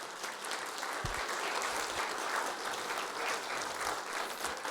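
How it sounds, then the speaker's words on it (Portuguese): A church congregation applauds during a worship service: dense, continuous clapping from many people, moderately loud and even throughout. "Vamos aplaudir o Senhor pela vida desse casal"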